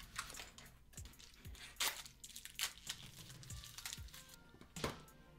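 A package holding circuit boards for an Arduino-based rotary shortcut macro keyboard is torn and unwrapped, giving close, loud crinkling and ripping of packaging with sharp crunches and rustles over several seconds, and no voices.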